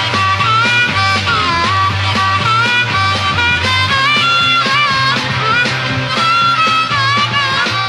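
A harmonica player plays a repetitive harmonica riff inside a full, loud band mix with drums and bass, the wavering reedy phrases looping steadily throughout.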